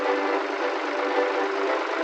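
A diesel tractor engine runs on, a steady, unbroken mechanical drone with an even, thin, muffled tone.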